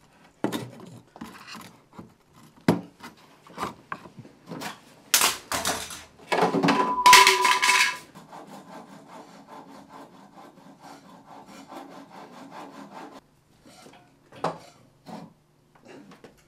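A tree saw is pushed through wood by hand: an uneven series of rasping strokes, a loud burst of fast sawing in the middle, then quieter scraping and a few knocks.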